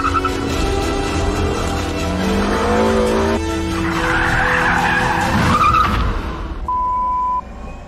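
A car's tires squeal loudly through a handbrake turn, a long sustained skid with engine note underneath, fading toward the end before a brief steady tone.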